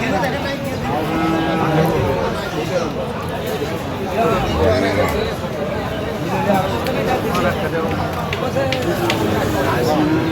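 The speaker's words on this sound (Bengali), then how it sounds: "ফ্রিজিয়ানের ষাঁড় বাচ্চা আমরা দেখছিলাম এখানে।" Friesian bull calf, roughly 10–12 months old, at a busy cattle market; low moos rise over a steady crowd babble with voices talking throughout.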